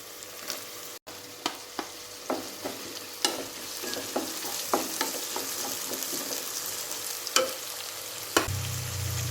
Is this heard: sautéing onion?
yes